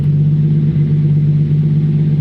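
A car exhaust rumbles steadily at a low idle-like drone, loud and close, with no clear rise in pitch across the stretch.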